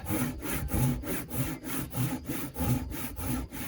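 A hand saw cuts into a timber tenon on a porch joinery job in an abandoned farmhouse, making steady rhythmic back-and-forth rasping strokes, about seven per second-long cycle, close and alone with no talking.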